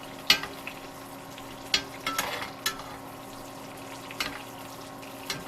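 Bison ribeye basting in brown butter in a pan gives a soft, steady sizzle, broken by a few sharp clicks and pops spread across the moment.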